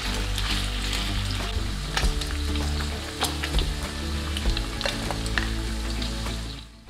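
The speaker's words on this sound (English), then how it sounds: "fry the meat and ensure all the pieces are covered in the glaze" Pork belly pieces fry in hot oil with caramelized sugar glaze, a loud, steady close sizzle with crackling pops and occasional scrapes of stirring throughout, no voices.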